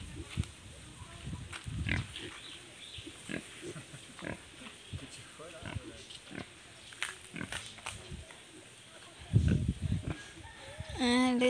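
A farm pig grunts in short, scattered bursts near the listener, joined by chickens clucking and a rooster crowing, with people talking at times.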